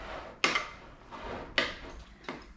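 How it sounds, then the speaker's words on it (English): A spoon works through bread pudding mixture in a dish, giving four distinct knocks and scrapes against the dish at an uneven pace, fairly quiet with nothing else in the background. "You want to make sure you stir it very well."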